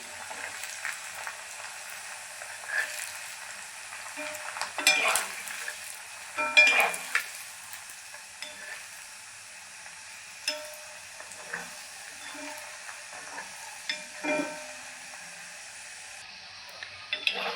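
Six balls of bread gulab jamun fry in hot oil with a faint, high bubbling sizzle, broken now and then by brief louder crackles and gentle handling noises.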